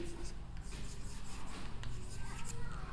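Chalk or marker scratching and rubbing on a board during a grammar lesson, in short, uneven strokes close by, with no clear talk.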